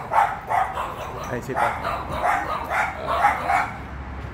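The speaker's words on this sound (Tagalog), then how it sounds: "Ang ingay ng mga aso namin dito." Dogs barking repeatedly in short bursts at a moderate distance, overlapping a voice speaking.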